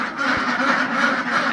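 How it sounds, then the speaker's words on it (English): A pair of Swedish ducks, a male and a female, quack steadily back and forth in soft conversational chatter. The calls are close and moderately loud, repeating without pause. "These are Swedish ducks."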